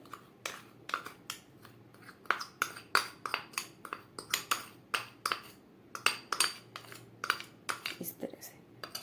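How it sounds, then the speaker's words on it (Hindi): Ghee and powdered sugar whisked together in a bowl with a wire whisk for nankhatai dough, a close, quiet series of irregular metallic clinks and scrapes against the bowl. "इस तरह से विस्कर से फेंट लेंगे"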